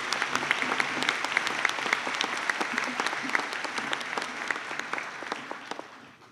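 Graduation ceremony audience applauding a graduate, steady, full clapping from a sizable crowd that carries evenly throughout and tapers slightly at the end.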